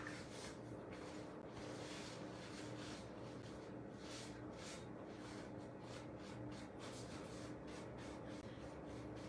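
Cloth rubbing furniture wax back off a wooden surface, a steady close scrubbing and swishing that runs the whole time with pulsing strokes and no talking.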